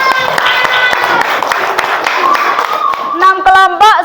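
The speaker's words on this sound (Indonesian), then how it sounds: "Tepuk tangan buat kelompok 6." Classroom applause for a student group at an Indonesian madrasah: a burst of clapping from many pupils over lively chatter and voices, with a clearer, louder speaking voice cutting in near the end.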